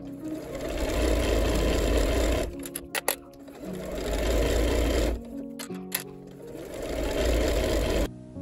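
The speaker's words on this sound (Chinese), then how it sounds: "接下来把袖口下缘还有侧缝线给它们缝起来" Sewing machine stitching the cuff hem and side seams of a garment in heavy fabric: steady loud whirring runs of stitching broken by short pauses with small clicks and fabric handling between bursts.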